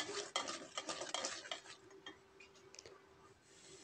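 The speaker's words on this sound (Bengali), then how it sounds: "দিয়ে হলুদ 2 চামচ দিয়ে আমরা সুন্দর করে মশলা দিয়ে কষিয়ে নেব।" Turmeric and coriander spices are stirred and fried in a pan for a cauliflower and hilsa fish curry, with a spoon scraping and clinking against the metal in quick irregular strokes, close and fairly quiet.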